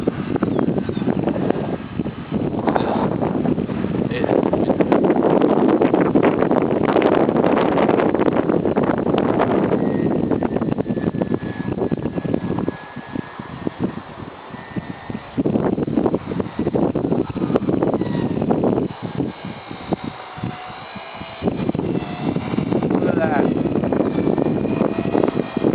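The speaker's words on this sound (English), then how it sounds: "It's windy, folks." Strong gusts buffet an outdoor microphone at a model airplane flying field, heavy rumbling wind noise dominating with brief lulls, a small aircraft engine faintly whining underneath.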